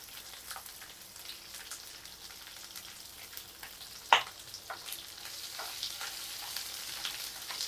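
Roughly sliced onions with dried red chillies sauté in a pan, giving a faint, steady crackling sizzle with one sharp clink of a spoon midway, heard quietly up close.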